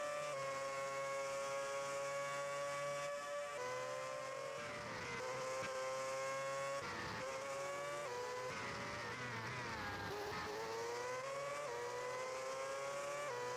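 Race cars in a racing video game at the Chinese GP whine past continuously, several engine tones rising and falling with gear changes, a steady fairly faint drone of multiple cars on track.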